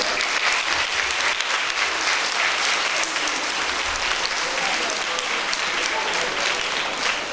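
A church congregation claps loudly and continuously at a thanksgiving Mass marking a primary school's tenth anniversary, a dense, even roar of many hands that holds steady throughout.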